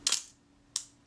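Camera shutter firing on a Bessamatic M or Reflex S set to bulb: a sharp mechanical click on release, then a second crisp click under a second later as it closes, close and alone.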